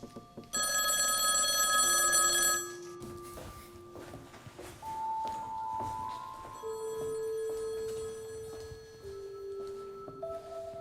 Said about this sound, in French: Je vous interdis de répondre à ce téléphone.